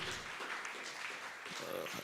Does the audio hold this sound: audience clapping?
yes